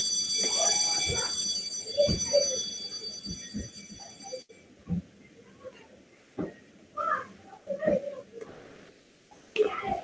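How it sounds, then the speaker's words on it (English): An electronic alarm set from a website beeps with steady high tones for several seconds at a college tech fest, then stops, leaving scattered knocks and faint murmuring voices. "The alarm is ringing."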